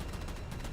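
Enemy gunfire in Halo 4, a dense, continuous barrage of shots crackling without pause through the whole short burst, loud and close.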